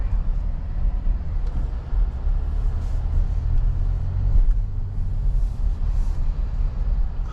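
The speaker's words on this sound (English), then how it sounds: "It's really soft going over all these construction bumps." A 2023 Nissan Rogue SL AWD rolls over construction bumps in heavy traffic, giving a steady low road rumble with soft thumps from the suspension, heard from inside the cabin, with no talk.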